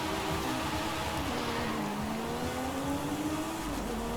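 A Porsche 911 Carrera S accelerates in Forza Horizon 5, its engine holding a steady, droning note that climbs and dips slightly as it pulls hard, loud and continuous with no talking.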